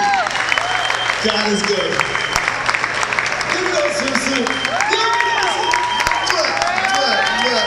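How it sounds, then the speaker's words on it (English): Audience applause at a live BFASM show in St. Maarten, a steady wash of clapping and cheering from a crowd, with a voice talking over it and a hum running beneath. "Ladies and gentlemen, give them a round of applause, please."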